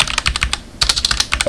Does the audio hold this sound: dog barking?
no